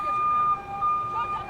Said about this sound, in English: I'm sorry for the sirens, they're going off all the time.